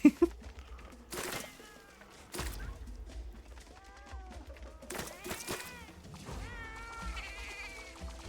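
A cat meows repeatedly in Monster Hunter Wilds, several rising and falling calls spread across the stretch amid game thuds and impacts, with faint background sounds and no speech.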